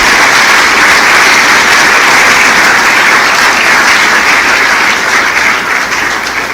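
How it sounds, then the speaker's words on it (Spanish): A church congregation applauds loudly and continuously, a dense wash of clapping from a large crowd that holds steady before easing slightly at the end, with no talk. "Denle un aplauso a Jesús"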